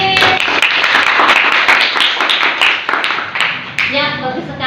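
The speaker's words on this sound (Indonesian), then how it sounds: "Oke, tepuk tangan untuk Bilkis." Classroom applause for a student: dense clapping from many hands fills the whole stretch at steady loudness, with children's voices mixed in and a teacher's voice emerging near the end.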